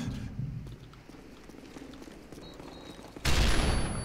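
Bursts of gunfire crackle through a busy mix of noise in a Call of Duty: Modern Warfare 3 multiplayer match, ending in a sudden loud, dense blast of shooting in the final second.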